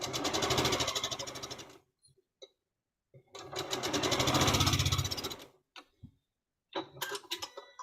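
A sewing machine stitches fabric in two loud, steady running bursts separated by a pause, with brief clicks and handling noises between and a short burst of machine activity at the end.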